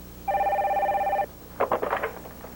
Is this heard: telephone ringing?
yes